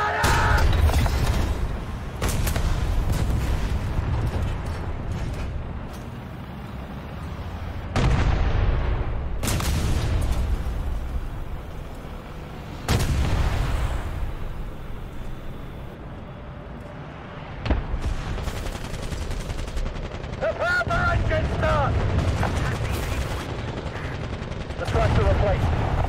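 Tank cannon fire in War Thunder: heavy booming shots and sharp blasts recur every few seconds over a constant engine rumble, with louder impacts standing out, while in-game voice callouts sound between shots.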